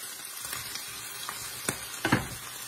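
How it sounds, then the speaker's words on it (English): Burgers sizzling on a grill as they are flipped, a faint steady crackle with a few soft scraping taps from the spatula near the end. "I'm gonna flip these burgers"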